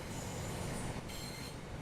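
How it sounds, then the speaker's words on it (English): A train in the video game Train Sim World 5 grinds down to a halt, its wheels squealing high over a loud, constant rumble of the cars for a couple of seconds. "it's time to bring the train to a stop"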